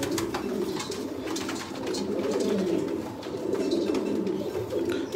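Sialkoti pigeons coo in low, soft, repeated throaty calls that overlap continuously at moderate distance, with faint background noise.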